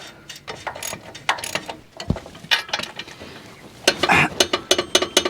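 A ratchet tightens a nut on a 2004 GMC 3500 Duramax truck, giving bursts of rapid metallic clicking and clanking at close range with short pauses between strokes.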